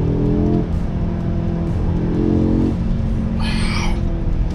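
An Audi S3 engine revs with quick downshifts, producing rising and falling throaty engine tones in short bursts over a steady road rumble inside the car, with no talking.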